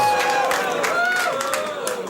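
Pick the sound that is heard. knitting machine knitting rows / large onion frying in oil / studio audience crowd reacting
studio audience crowd reacting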